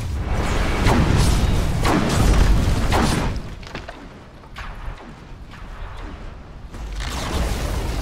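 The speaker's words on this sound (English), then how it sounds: "Radiant's middle tower has fallen." Tower destroyed in a Dota 2 match, heard as loud booming crashes and heavy thuds that rumble through the opening seconds, then fade and return softer near the end.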